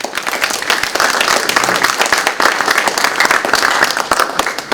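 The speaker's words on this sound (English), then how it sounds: "let's give them a round of applause" An audience at a Boys to Men Program event breaks into loud, dense applause, a close, continuous patter of many hands clapping without speech.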